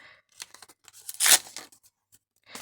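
A short, bright rip of paper tearing open, one sharp burst in the middle with a few small crinkles before and after.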